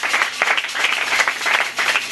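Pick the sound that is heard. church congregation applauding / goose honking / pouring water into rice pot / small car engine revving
church congregation applauding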